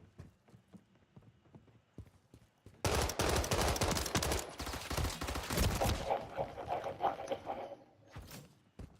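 Rapid bursts of gunfire in a video game's gun game mode, a dense loud volley of repeated shots after a quieter stretch of scattered clicks, tapering into sparse shots near the end.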